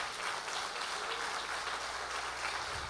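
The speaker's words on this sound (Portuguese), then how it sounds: "Você pode aplaudir Jesus?" A church congregation applauds during a Wednesday service, a soft, continuous wash of many hands clapping that sounds distant and faint.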